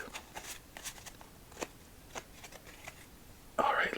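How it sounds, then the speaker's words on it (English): Deck of playing cards shuffled up close, soft scattered riffles and taps followed by a louder burst of a shuffle at the end, quiet and intimate. "one more shuffle with some cuts and deal out the first game of the night."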